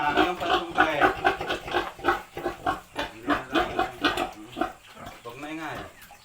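A sow grunts repeatedly in short rhythmic bursts while being artificially inseminated on a pig farm, close and fairly loud, with a person talking softly over the grunts.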